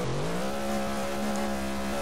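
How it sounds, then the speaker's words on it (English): Loud car engines in a slot-car roleplay video game drone steadily and close up, the pitch climbing briefly at the start before holding a strong, even roar with no talking. "You guys have some, like, stupid loud cars. Like, that is way too loud."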